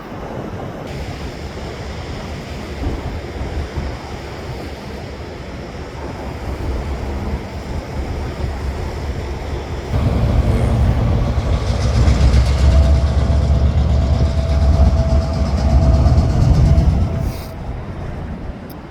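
Freight train cars bearing various railroad logos rumble and clatter past nearby, near a SkyTrain line, the rolling roar swelling louder midway before easing off again.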